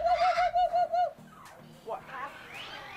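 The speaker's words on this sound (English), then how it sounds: "Some special animals right here for many reasons, and one of which is because they can sing sometimes." Exotic birds at a sanctuary for neglected birds, a bird that can talk and sing, give a quick run of repeated clear whistled notes, then a voice carries on with more sing-song chatter close by.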